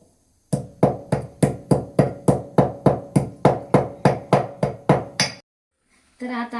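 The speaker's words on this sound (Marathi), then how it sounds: "हे बारीक करून घ्यायची लवंग" Cloves being crushed fine for traditional wheat kheer, about fifteen sharp, evenly spaced pounding strikes close by, stopping abruptly, followed by a brief voice.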